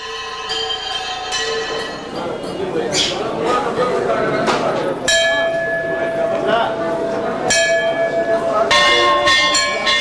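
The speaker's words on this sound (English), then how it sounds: "Bells announce a worshipper's presence at temple" Several temple bells ring out with bright, overlapping metallic strikes and long decaying tones, some near and some farther off, against a busy background.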